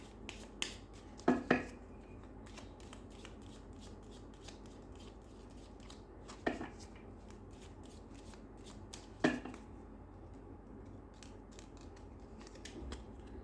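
Tarot cards are shuffled and drawn from a deck close by, giving quiet papery flicks with a few sharper snaps spaced several seconds apart over a faint room hum.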